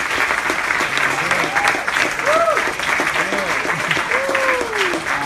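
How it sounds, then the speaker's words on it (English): An audience at an HR panel discussion claps loudly for the panel members in a dense burst of applause, while whistled or tonal sounds and background noise weave through it. "So I request everyone to give a big round of applause for the panel members."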